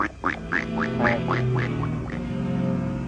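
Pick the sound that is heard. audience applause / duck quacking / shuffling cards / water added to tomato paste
duck quacking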